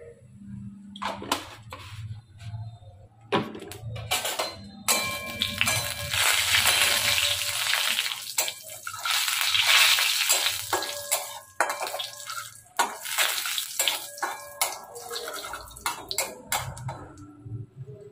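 Sugar and cumin powder fry in a hot tempering for a paneer dish, heard as bursts of sizzling crackle alongside repeated scraping and clattering of a utensil in the pan, loud and close with brief pauses.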